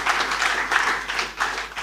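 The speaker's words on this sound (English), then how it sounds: "So please, a round of applause for the Nigerian young people." Conference audience applause, a dense, continuous patter of many hands clapping close and fairly loud, with slight surges in intensity throughout.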